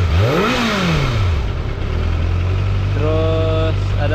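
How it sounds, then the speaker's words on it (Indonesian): A Kawasaki ZX25R motorcycle exhaust idling with a steady low burble, briefly revved up and back down, close and loud, with someone speaking over it. "suara knalpotnya"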